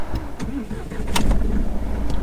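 A Mahindra TUV300 SUV engine cranks and catches, settling into a steady close idle rumble with a few clicks along the way.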